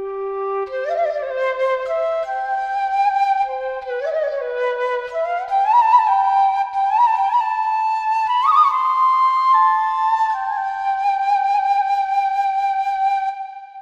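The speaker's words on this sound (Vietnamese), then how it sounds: "Tiếp theo mình muốn giới thiệu cho các bạn tiếng sáo mèo." A solo Hmong bamboo flute plays a slow, sliding melody with bends and gentle trills, clear and close, with no other sounds.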